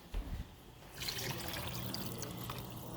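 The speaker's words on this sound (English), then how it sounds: "I'm going to fill that up with water" Water poured from an emptied 28-ounce tomato can into a pot of minestrone soup, a steady splashing pour that starts after a brief handling knock and runs on close and moderately loud.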